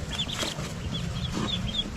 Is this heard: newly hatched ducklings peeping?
yes